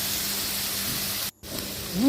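Sauce hits hot oil in a wok while stir-frying kale with chicken, giving a loud, steady hiss and sizzle. There is a brief break in the middle, and a voice starts at the very end.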